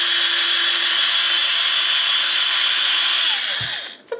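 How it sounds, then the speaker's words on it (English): Power drill boring into the hard plastic of a dollar-store snow globe, a loud steady whine and grinding buzz held for several seconds, then winding down abruptly with a short clunk at the end. "I'm gonna try my drill here real quick and see if I can get through it"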